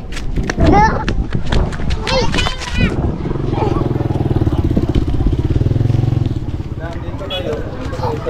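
Motorcycle at a house blessing, its engine idling with a steady low, pulsing rumble that runs through most of the scene, close by, while people talk and call out loudly over it at the start.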